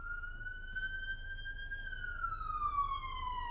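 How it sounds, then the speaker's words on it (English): A single emergency vehicle siren wails steadily nearby, then its pitch drops as it passes by, over low background rumble. "Siren."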